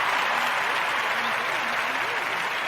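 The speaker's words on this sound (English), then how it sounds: "We'll get a round of applause for this thing, man." Steady applause from an audience during a live stream, a continuous dense wash of clapping with a voice faintly audible over it.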